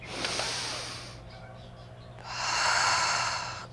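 A long, deep breath is drawn through the nose during a power yoga session. A second strong breath follows after a short pause, both close and clearly audible.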